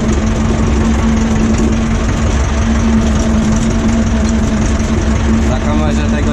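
Steady low rumble of an Ursus C-330M tractor engine pulling slowly uphill while hauling rubble and soil on a trailer, a constant droning hum throughout, loud and close.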